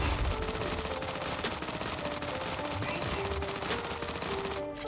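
Rail gun and other mech weapons firing in the robot combat game Mech Arena, dense continuous rapid gunfire with layered explosive impacts throughout, loud and busy until a brief drop at the end.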